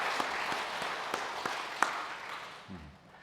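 Light applause from a small church congregation during an early-morning family prayer service, an even patter of clapping with a few sharper claps standing out, quieter and fading near the end, with a brief low voice at the close.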